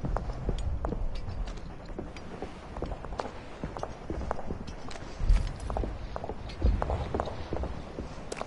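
Footsteps in the video game Verdun: scattered, irregular thuds that repeat through the clip, close and fairly loud against a constant murky background of game ambience.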